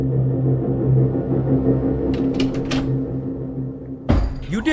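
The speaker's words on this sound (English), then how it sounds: "You didn't hear that door?" A door sounds in a horror video game: a sudden thud near the end cuts through a low droning ambience, after a few sharp clicks and knocks in the middle.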